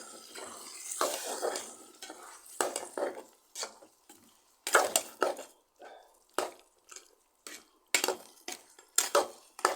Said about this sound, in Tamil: கொஞ்சம் நல்லா கிண்டி விட்டுக்கலாம்